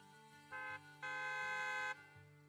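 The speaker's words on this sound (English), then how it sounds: "A loud honk echoes as several trucks with the Leaps and Bounds logo drives" A truck horn in the video game Zenless Zone Zero blasts twice, a short toot followed by a longer sustained honk, over a low rumbling background.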